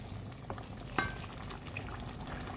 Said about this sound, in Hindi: अब हम इसकी ना भुनाई करेंगे।